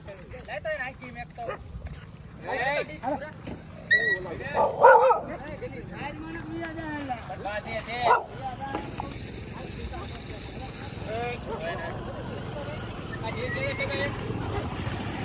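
Several dogs being fed laddoos in Damnagar, Amreli, Gujarat, bark and yip in scattered bursts amid outdoor noise, with people talking and calling out around them.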